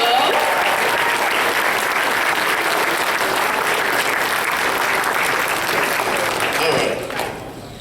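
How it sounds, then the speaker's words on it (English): A large audience at a convention's closing ceremonies applauds in a loud, dense, sustained roar of clapping that fades somewhat in the final second. "give me a big round of applause to welcome Thornwing to the stage"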